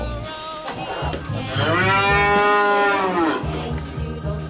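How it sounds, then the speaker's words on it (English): A cow moos once in a long, loud, drawn-out call with rising and falling pitch, close up and alone, with a low rumbling background. "Cow."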